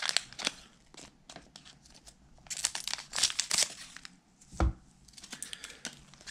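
A wrapped pack of 1990-91 Skybox basketball trading cards is torn open by hand, with quiet crinkling and crackling of the wrapper in irregular bursts and one dull thump partway through, close and soft.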